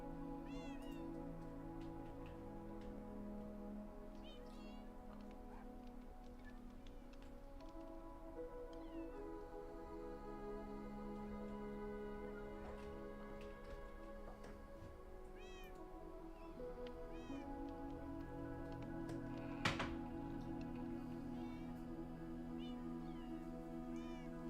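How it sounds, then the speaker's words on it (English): Cat meowing in the video game Minecraft, a series of repeated meows and caterwauls over a soft steady background, several calls spread across the span and one sharp louder sound near the end. "Oh, the cat noises."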